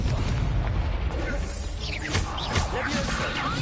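A Confringo blast spell erupts in Hogwarts Legacy, a loud booming burst with a whooshing rush over a dense, rumbling battle din, with a voice speaking over it.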